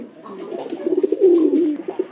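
Domestic pigeons kept in a village coo in low, throaty, rolling phrases that swell and fade, close by and alone over a quiet background.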